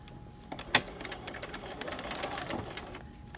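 A sewing machine stitches a fabric ruffle in a short, quiet run of close mechanical clicks and whirring, with a few louder taps.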